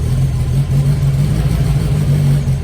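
A 1972 Volkswagen Bug's air-cooled engine chugs loudly and close as the car pulls off in first gear, a steady low throbbing drone with no voices.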